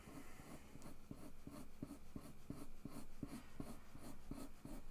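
A mechanical pencil scratches across paper in short, rhythmic strokes, roughly two per second, faint and close, with no talking.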